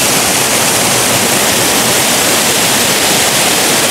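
The hidden Sekar Langit waterfall roars as a loud, dense, unbroken rush of falling water close by, with no voices.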